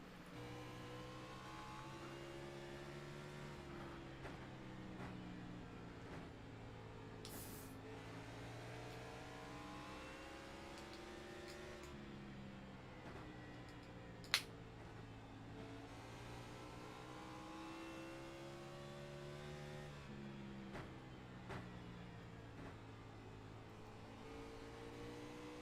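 A Metro Ford Cup race car driven hard around Bristol through lap traffic, its engine steadily rising and falling in pitch with repeated upshifts and throttle lifts, a loud continuous onboard drone with no talking.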